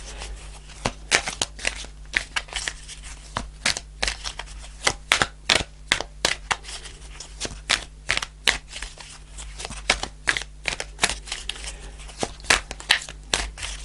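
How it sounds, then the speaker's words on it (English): Tarot cards riffled and shuffled by hand during a love reading, a steady run of crisp slapping and flicking bursts repeating for the whole stretch, close and clear with no talk over it. "Give it a couple more shuffles"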